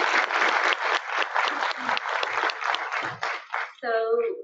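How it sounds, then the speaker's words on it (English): Applause from a symposium audience after a panel discussion, steady clapping with crowd noise for about four seconds before it breaks off and a voice briefly comes in at the end. "Let's give them a round of applause"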